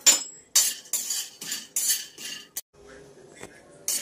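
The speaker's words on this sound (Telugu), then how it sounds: "జీడిపప్పు బ్రౌన్ కలర్ వచ్చేంత వరకు వేయించుకోవాలి." Cashew nuts roasting in a kadai, with repeated metallic scraping and clinking of a spoon against the pan in steady strokes, close and fairly loud, with no talking.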